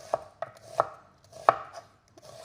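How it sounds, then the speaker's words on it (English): A knife slices down through an onion half at an angle on a cutting board, giving six crisp, close chops at an uneven rhythm with quiet pauses between them. "my method for this is simply holding my knife on an angle, and I'm just cutting down"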